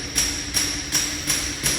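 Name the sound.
impact driver hammering as it tightens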